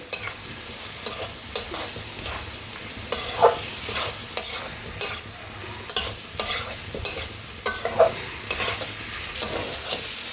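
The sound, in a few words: frying and stirring spice masala in oil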